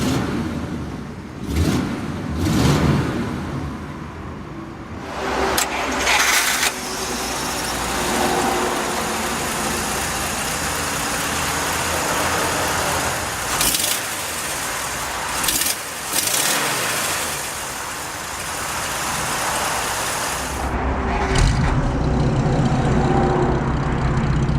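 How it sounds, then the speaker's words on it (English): A 1949 Pontiac Chieftain Deluxe 8 with a straight-eight engine starts with a push button and settles into a quiet, steady idle, heard close and alone without talk. "Just put your foot on the brake and hit it to start. Beautiful. Extremely quiet startup."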